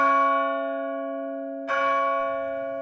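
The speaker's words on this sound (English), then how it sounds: "The bell struck 12." A church bell tolls in a Dickens Christmas Carol reading, ringing out loud and resonant with a long humming decay, then struck again so a second clang rises over the fading first, alone without voices.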